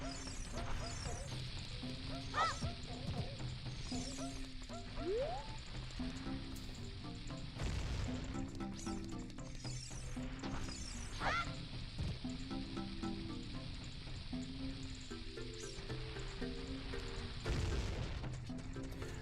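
Bombs in The Legend of Zelda: Ocarina of Time Master Quest go off as several muffled booms spaced through the stretch, over looping game music and fizzing effects.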